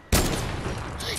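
Gunfire in the Fortnite video game, with a sudden loud burst of shots followed by sustained crackling fire and a brighter flurry near the end, and no clear voices over it.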